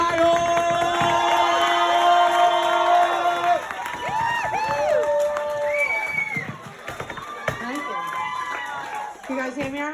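Cheering, whooping crowd welcoming actress Sarah Niles to the stage for her first stand-up comedy attempt, loud excited shouts over a lively room, with voices calling out amid the noise.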